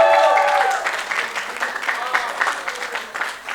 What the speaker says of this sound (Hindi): आओ सब लोग तालियां बजाइए.